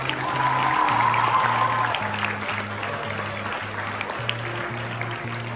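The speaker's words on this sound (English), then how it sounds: "Let's have a huge round of applause." An audience at a school investiture ceremony applauds steadily and at moderate volume for several seconds, with a sustained musical tone playing underneath.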